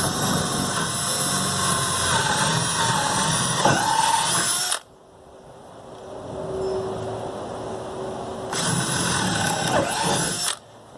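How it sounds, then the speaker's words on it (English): A power drill bores a 2-inch hole through a hay bale for a homemade archery target, a loud steady whine that stops abruptly, a quieter pause, then a second drilling burst, no talking. "we're going to take our drill and we're going to go ahead and drill out right next to the line"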